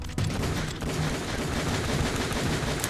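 SOCOM pistol fire in the Metal Gear Solid video game, a dense continuous volley of shots blending into a steady loud barrage throughout, with no talking.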